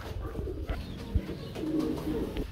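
Pigeons in cages coo nearby in soft low repeated calls, with a light thump and faint background noise.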